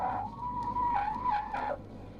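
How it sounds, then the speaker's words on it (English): A long, high tire squeal from a full panic stop from 50 mph in a 1971 Holden, steady then wavering, loud against low engine rumble, fading out as the car halts. "Just listen to a full panic stop from 50 miles an hour"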